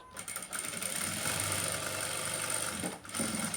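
A sewing machine runs a steady line of stitching on a designer blouse, a continuous close-up mechanical whir with a brief pause near the end before it resumes.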